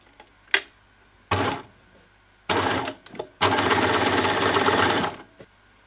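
A sewing machine stitches straps for a harness in short runs: a quick tap, two brief bursts, then a longer steady whirring run, with quiet pauses between them.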